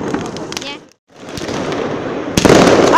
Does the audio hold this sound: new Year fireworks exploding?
yes